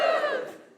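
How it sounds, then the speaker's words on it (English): Live comedy podcast audience cheering: a loud, sudden whoop of many voices that swells at once and then quickly fades away within a second. "Give us a cheer if you're feeling more guilty than feminist."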